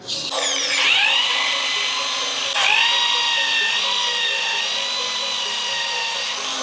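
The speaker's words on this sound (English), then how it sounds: "we ground that down to bare metal" A power tool grinding seam sealer off the underbody of a BMW E36 down to bare metal: a loud, close, high whine that revs up twice, then holds a steady shrill grinding tone.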